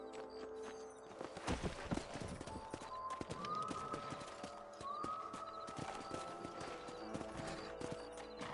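A horse's hooves clip-clop in a rapid galloping rhythm across open ranch ground in Red Dead Redemption, moderately close and fairly quiet, with occasional game sounds and no one speaking.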